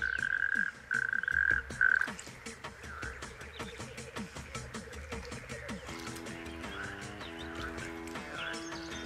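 Male natterjack toads give mating calls from shallow pools on open heath, a faint, somewhat distant rattling chorus under dense layered clicks and some birdlike calls, with a brief high whistled tone early on.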